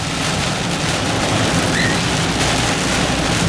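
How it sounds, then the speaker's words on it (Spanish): Heavy rain pours steadily, a dense, loud, continuous wash of noise close by. "Vinimos con lluvia, nos vamos con lluvia."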